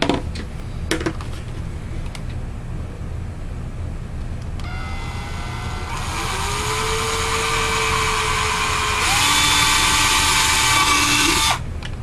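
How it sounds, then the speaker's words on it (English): A power drill whirs up to a steady high whine and holds it, changing pitch as it bites through material, close and loud for several seconds. "I'm going to drill some holes in here"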